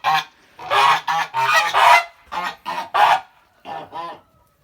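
Kholmogory geese on water by a stream, honking loudly and repeatedly in ragged bursts close by, with several birds calling over one another.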